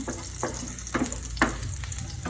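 Ginger sautéing in a pan for chicken tinola, a soft steady sizzle with several evenly spaced scrapes of a spatula, close and quiet with no voices.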